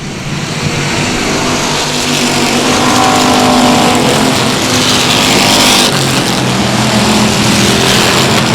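A pack of dirt track race cars roars away at the green flag at South Texas Speedway, a loud, continuous engine drone that swells as the field accelerates together.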